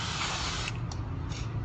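Lubricant sprayed onto a Cybergun Colt M1911 CO2 BB pistol: a steady close hiss running without pause, with a few brighter bursts as the nozzle is pressed.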